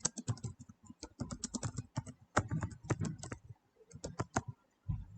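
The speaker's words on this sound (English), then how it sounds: "Once you finish typing, you press enter and it will take that update" Rapid typing on a computer keyboard, bursts of quick key clicks with short pauses, close and fairly quiet, no voices.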